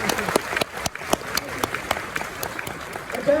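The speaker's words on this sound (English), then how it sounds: "that deserves a round of applause." Steady, evenly spaced hand clapping, like a small group applauding, with voices underneath, at a convention panel in Sydney.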